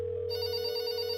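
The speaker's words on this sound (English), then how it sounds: "Yeah, it's my phone." A telephone rings inside a video game, giving one continuous electronic ringing tone that stays loud and steady throughout, with no voices over it.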